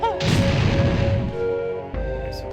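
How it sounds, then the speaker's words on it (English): Grenades fired and blowing up in Banjo-Tooie, a booming game explosion with crashing rumble layered over music, loud and close, followed by a second thud near the end. "Remember how to shoot grenades"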